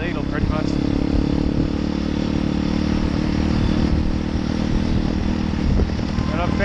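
A motorcycle rides through traffic on small roads, its engine a steady close drone with occasional clatter, while someone talks over it throughout.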